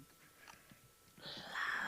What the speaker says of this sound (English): Listen to that crunching.